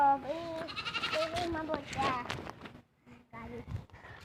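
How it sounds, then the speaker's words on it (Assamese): Several goats bleat nearby in a quick series of wavering calls with short pauses between them, and a person's voice can be heard faintly in the background. "এই চাওক এইবোৰ ছাগলী আমাৰ"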